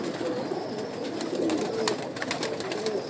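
Pigeons coo softly and steadily in a rooftop loft kept by a pigeon fancier, low murmuring calls repeating close by and overlapping throughout.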